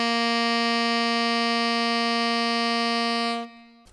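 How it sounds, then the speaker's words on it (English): A tenor saxophone holds one sustained C for about three and a half seconds, steady and loud with a rich, buzzy tone, then stops abruptly. "But if we play a C on the tenor, it's going to sound like this."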